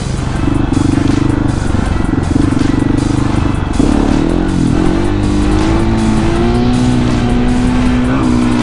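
A KTM 701 motorcycle is revved hard in first gear for a wheelie, loud and close, its engine note holding then climbing and shifting in pitch midway with a continuous roar throughout.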